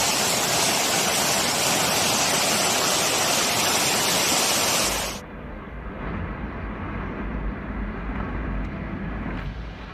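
Gale winds of super typhoon Nanmadol hitting Kyushu, Japan: a loud, steady, broadband roar fills the first half, then drops suddenly to a lower, rumbling wind noise.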